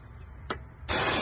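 Brake cleaner sprays onto a reverse light switch area of a Mitsubishi 3000GT SL, bursting in as a loud, steady broadband hiss after a brief faint knock and quiet lead-in.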